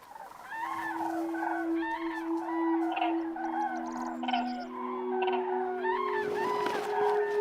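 A large wintering flock of cranes calls across the Dehesa of Spain, a continuous dense chorus of trumpeting, honking cries layered near and far, with no voices.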